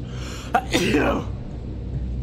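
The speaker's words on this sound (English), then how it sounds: "my sneeze put us off time" A single sharp sneeze bursts out close by, with a short inhaled gasp just before it and quiet background noise after.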